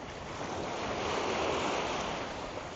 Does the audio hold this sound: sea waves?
yes